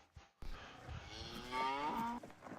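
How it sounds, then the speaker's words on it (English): Cattle low in a video game: a single long, close moo with a rising, drawn-out tone, heard clearly over faint background sounds with no talking. "So we've got cattle now."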